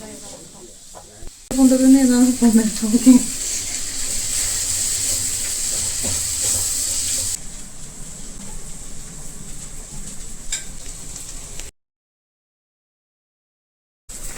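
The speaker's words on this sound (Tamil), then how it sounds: "கடாயில் கொஞ்சம் கடலை எண்ணெய் ஊற்றிட்டு அதில் கால் கிலோ வெங்காயமும் கொஞ்சம் கருவேப்பிலையும் போட்டு வணக்கிக்கிறாங்க" Quarter kilo of onions and curry leaves sizzle in groundnut oil in a kadai for a homestyle tomato kuzhambu. A loud, steady, close hiss runs for several seconds with a brief voice over it, then fades and cuts to silence near the end.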